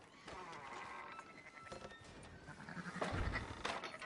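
Sheep in Red Dead Redemption 2 bleat at a faint, moderate distance, with a couple of bleats rising out of a soft outdoor game ambience.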